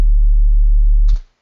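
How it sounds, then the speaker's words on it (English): A clean, pure sine-wave sub bass tone produced for distortion work on bass sound design, holding steady and loud for just over a second before cutting off abruptly. "now that we've separated the sub track and we get that clean sine wave"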